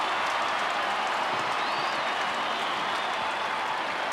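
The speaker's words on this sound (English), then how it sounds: "And the crowd just about lifts the roof off the stadium here." At an AFL match between Adelaide and Carlton in 1998, a stadium crowd roars and cheers after a strong mark. The sound is a loud, sustained wall of cheering and applause from many thousands of people, with no nearby voices.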